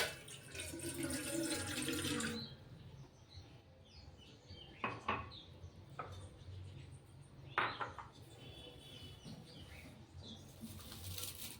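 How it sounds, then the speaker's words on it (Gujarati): Half a glass of water is poured for falooda: a brief splashing pour at the start, then quiet handling noises and a few sharp knocks of utensils. "સૌપ્રથમ આપણે અહીંયા અડધા ગ્લાસ જેટલું પાણી એડ કરશું."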